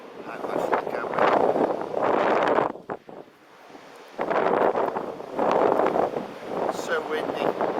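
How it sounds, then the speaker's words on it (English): Strong gusts of wind buffet the microphone at an abbey ruin on a very windy day, roaring in heavy surges with a brief lull in the middle. "So windy, so windy."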